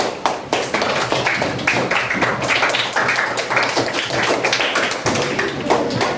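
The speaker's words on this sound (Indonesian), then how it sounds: "beri tepuk tangan untuk semua kelompok" A classroom of students applauding all the groups, dense rapid hand claps from many people at close range, sustained and fairly loud throughout.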